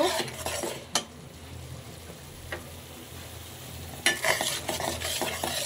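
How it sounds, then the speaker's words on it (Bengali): Spice paste frying in oil while a spoon stirs it, soft continuous sizzle broken by a few sharp scrapes and knocks against the pan, close and alone. "তেল ছেড়ে দেওয়া পর্যন্ত আমি মশলাটাকে সুন্দর করে"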